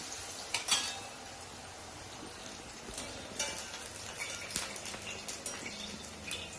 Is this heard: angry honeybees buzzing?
no